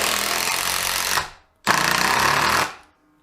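A Makita DTD171 impact driver drives a screw into wood in two loud, steady bursts of rattling impacts, each around a second long, split by a brief silence.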